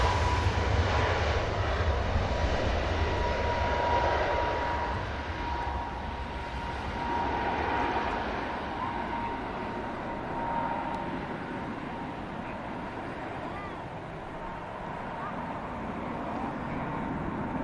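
A Ryanair airliner takes off for Murcia at an airport, a steady broadband jet engine roar that stays loud for the whole stretch and swells slightly, with no talk over it.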